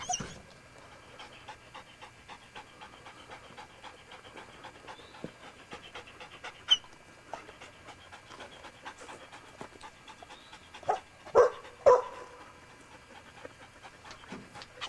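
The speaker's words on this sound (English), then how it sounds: "Good dog, Jack. Good dog." A pet dog pants quickly and steadily in quick, soft breaths, close by and quiet, with a few louder whimpery bursts near the end.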